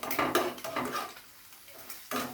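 Egg noodle ingredients frying in a pan on a medium flame with a pinch of salt, a utensil scraping and clattering against the pan in bursts with quieter sizzling in between, no talking.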